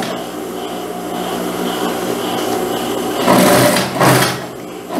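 A sewing machine stitches around a jacket collar, giving a steady close mechanical hum. Two louder bursts of handling noise come near the end as the fabric is moved, with no voices.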